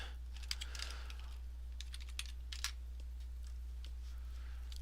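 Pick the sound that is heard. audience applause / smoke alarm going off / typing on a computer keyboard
typing on a computer keyboard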